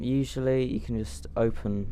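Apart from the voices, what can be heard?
No everyday noises stand out.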